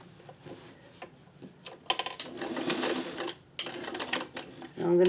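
A sewing machine runs a straight topstitch on a flat-laying piece, with short bursts and one sustained rattling stretch of stitching, close and fairly loud, pausing briefly between runs.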